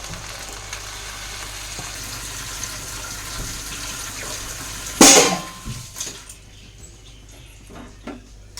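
Water poured into a pot of khichuri mixture in a home kitchen, a loud splashing gush that bursts in suddenly over steady background hiss, then tapers off within about a second into quieter stirring and clinks.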